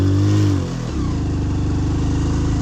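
A motorcycle engine labours up a steep mountain road toward Spiti Valley, its note dropping from a higher whine into a low, steady, loaded drone close to the microphone, with no talking.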